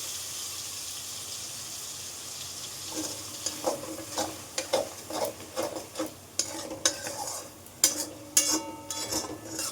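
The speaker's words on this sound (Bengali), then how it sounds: "তেলটার মধ্যে আমি কিন্তু পেস্টটা পুরোটা দিয়ে দিলাম" Ginger spice paste sizzles and fries in hot oil for a Bengali lote fish jhal, with a steady low crackle under a rhythm of sharp scraping stirs that grow more frequent toward the end.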